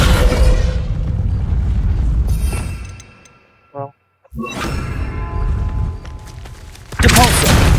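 A spell blast in the video game Hogwarts Legacy crashes with loud booming, shattering impacts, drops into a brief near-silence broken by a short tonal chime, then surges back with heavy rumbling and a final loud burst.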